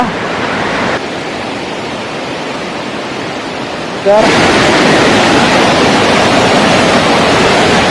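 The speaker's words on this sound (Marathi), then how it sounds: "धबधबा एकदम जवळच आहे बघण्यासारखं" Continuous roaring rush of a waterfall close by, loud and unbroken, swelling suddenly louder partway through as the sound source draws nearer.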